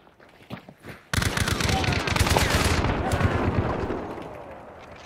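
Rapid gunfire erupts in Hunt: Showdown, a loud sustained burst of overlapping shots and bangs after a few scattered quieter pops, with voices talking underneath.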